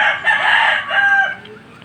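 A gamefowl rooster crows once, loud and close: a bright, strained call lasting under two seconds with no voices over it.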